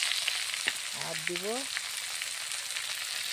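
Greens fry in a hot wok with a steady, hissing sizzle that holds at an even level throughout, and a short spoken phrase sounds briefly over it.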